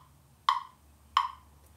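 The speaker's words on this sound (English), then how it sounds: "Now, I'll bet you noticed this metronome." Two sharp, isolated metronome clicks about two-thirds of a second apart, crisp and close, with a quiet low hum beneath and no voices.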